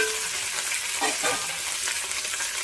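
Onions and green chillies frying in a pan with drumstick flower buds give a steady, close, loud sizzle with a faint stirring scrape partway through.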